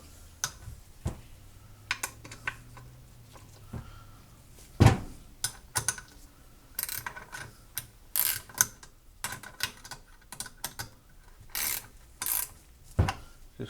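Scattered ratchet clicks come from a socket wrench turning a suspension nut during an upper bushing and bump stop job. The bursts are short, quiet and irregular, with pauses between turns and no speech.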